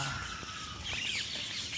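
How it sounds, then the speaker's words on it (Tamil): Parrots calling at an outdoor spot during an early-morning walk, a few faint, distant chirps and squawks over a soft steady background hush, with no voices. "இந்த இடம் ஃபுல்லாக கிளி சத்தம் தான் கேட்கும்"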